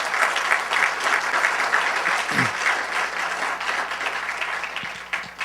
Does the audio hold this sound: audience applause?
yes